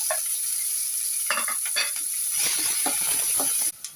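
Fennel seeds, cardamom and finely chopped onion frying in a pan for a sweet corn curry, a steady close sizzle with scattered stirring scrapes, ending abruptly.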